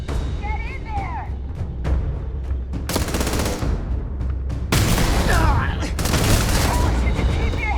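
Heavy gunfire in the space combat game Starfield: bursts of rapid automatic shots and booming blasts, loud and close, with a voice shouting over the fighting and sharp chirping effects early on.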